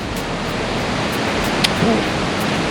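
Yung Thong waterfall in Na Yung–Nam Som National Park sends a steady, loud broadband roar through the forest, continuous and unbroken, with a faint bird chirp briefly above it.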